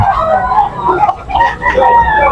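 A bull stag gamecock crows close by, a loud, strained call broken into a few rising and falling bursts over about two seconds.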